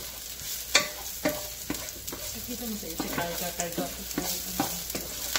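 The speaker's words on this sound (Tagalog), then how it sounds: "Yan, continue stirring lang po." Ginger and garlic sizzling in a pan for chicken curry while a utensil stirs and scrapes, giving a series of distinct knocks and scrapes over a steady frying hiss.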